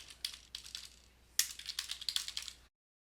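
A name is typed on a computer keyboard, the keys clicking in two quick close bursts with a short pause between them, loud and near, then the sound stops abruptly. No voices are heard.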